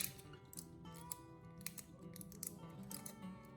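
Repeated crisp snips of scissors slicing through thin foil from an empty pill blister pack into strips, a series of short sharp cuts at an uneven pace over a faint background hum.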